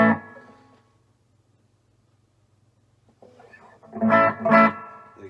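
An electric guitar through a Boss SD1 Super Overdrive rings out a distorted chord that decays into reverb tail and near silence, then a few softer picked notes build into two louder overdriven strums.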